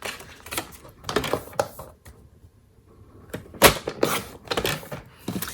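Paper trimmer slicing leftover cardstock down to a small square for a stamped card, a series of clicking, sliding cuts in bursts with a quiet pause between, close and moderately loud.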